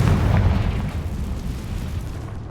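A Confringo spell blast in Hogwarts Legacy lands as one heavy, loud boom whose rumble rolls on and slowly fades over a couple of seconds, with no talk.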